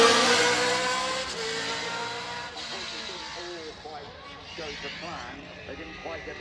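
The 1979 Ligier Cosworth Formula One car runs at Goodwood, its engine note rising and then fading as it passes. A commentator talks over it throughout.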